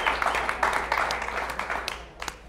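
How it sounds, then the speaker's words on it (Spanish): Studio audience applause for Rosalinda Serfaty on a talk show, a steady wash of clapping from a group with a few sharper individual claps as it tapers off. "Un aplauso para Rosalinda Serfati"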